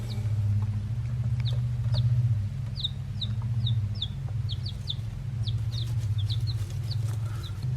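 Six baby chicks peeping in rapid, high, thin chirps scattered over a steady low background hum, fairly close and moderately loud, with no talking.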